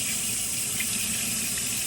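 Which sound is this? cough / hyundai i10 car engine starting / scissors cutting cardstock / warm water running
warm water running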